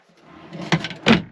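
A large drawer in a Toyota Tacoma camper build slides open with a soft rolling rumble, ending in two quick knocks as it reaches its stop.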